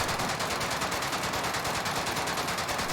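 Rapid automatic gunfire from a weapon in a Call of Duty game, a dense unbroken string of sharp shots at a steady fast rhythm, loud and close, with no talking.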